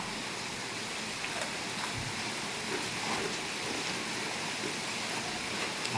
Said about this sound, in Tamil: சரியான மழை பெஞ்சிக்கிட்டு இருக்கு